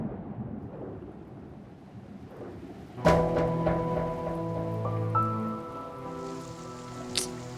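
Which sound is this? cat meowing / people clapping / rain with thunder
rain with thunder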